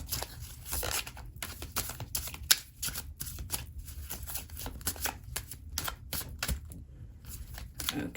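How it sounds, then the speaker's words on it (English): Tarot cards are shuffled repeatedly up close, a crisp riffling and flicking rustle coming in quick bursts. "Let me shuffle a little bit."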